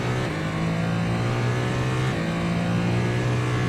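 BMW race car in iRacing with a V8 engine, holding a steady high whining drone that climbs in pitch through gear changes, loud and continuous with no talking over it.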